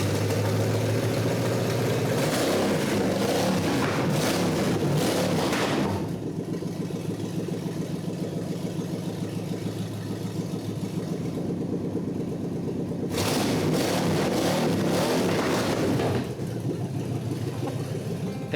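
A 1948 Packard car engine rumbles at idle, steady and close, with louder stretches of revving at the start and again later, and no talking.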